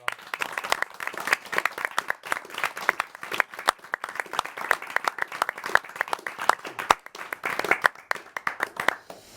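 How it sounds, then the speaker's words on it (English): A round of applause and clapping from a small group during a RuneScape community livestream, dense irregular hand claps sustained throughout at moderate level, close and continuous, with no talk over it. "Give a round of applause, everyone."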